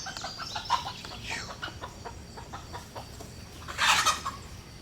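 Broody hens clucking in a run, a steady string of short, close clucks that build to a louder burst of agitated squawking near the end.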